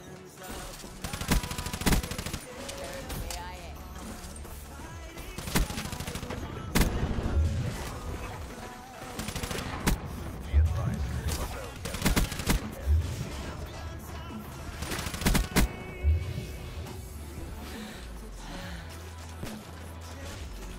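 Sustained gunfire fills a Call of Duty Black Ops 3 match, with rapid bursts of automatic weapons and repeated loud shots over a dense, noisy battle background.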